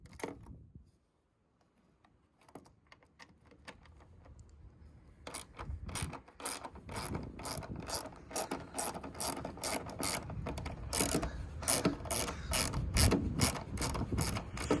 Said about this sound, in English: we gonna start by just unloosening these 10mm bolts from the headlights